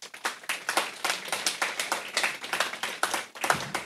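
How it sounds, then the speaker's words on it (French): An audience at a French business breakfast conference applauds a speaker being invited on stage, giving dense, steady clapping from a moderate-sized crowd that swells and fades over a few seconds, with no talking. "on peut l'applaudir."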